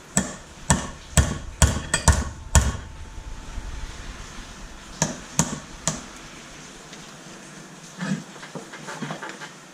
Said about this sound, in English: Now what I've got is a centre punch. And I'm going to lightly put a centre pop on a little divot on that.